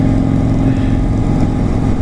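Honda CBR600RR motorcycle on a test ride, a steady engine drone with a low rumbling tone held at constant pitch throughout, close and loud.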